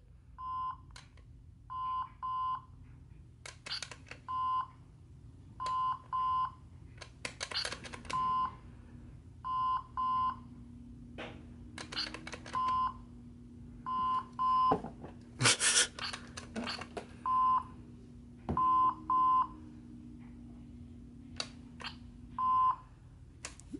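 A Star Wars BladeBuilders Rey electronic toy lightsaber with dying batteries beeps in short, repeated electronic bursts at an uneven rhythm, with occasional clicks and a faint low hum underneath.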